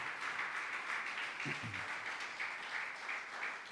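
A steady wash of applause from a church congregation, fairly distant and even throughout, with a brief murmur of voices partway through.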